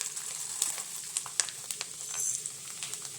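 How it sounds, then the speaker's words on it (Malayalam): Rice and urad dal fry in hot oil for a tender jackfruit stir fry, a crisp crackling sizzle with scattered popping spatters and a brief stirring swell midway. "ഉഴുന്ന് പരിപ്പും അരിയെല്ലാം നന്നായി മൂത്തിട്ടുണ്ട്."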